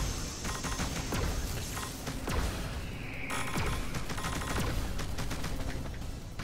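Dense gunfire and explosions from the video game Panzer Dragoon Remake, a constant loud barrage of rapid shots and impacts with no pause.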